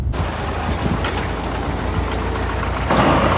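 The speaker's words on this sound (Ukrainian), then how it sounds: "тракторець вже їде, сівалка 4-метрова" An MTZ 50 tractor pulling a 4-metre seeder across a field gives a steady low engine drone that holds evenly throughout, with a brief brighter rise near the end.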